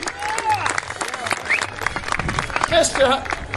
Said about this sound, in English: All right, big round of applause for the X-1.